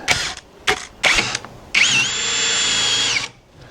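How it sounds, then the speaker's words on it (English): Several short bursts of a Kincrome cordless battery power drill, then one longer run whining at steady speed before it stops. "So first time using the drill, and we're going to go see how that goes."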